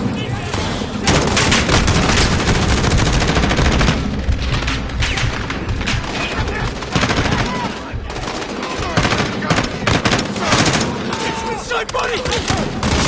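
Heavy video game combat with constant automatic gunfire, rolling fusillades and booming blasts, loud and nearly unbroken, while voices shout and talk over the battle.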